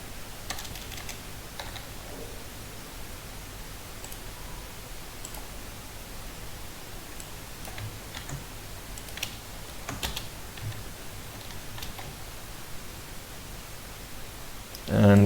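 Keys on a computer keyboard clatter in quick, uneven bursts while values go into a product form, soft and close over a faint hiss, with a louder thump at the very end.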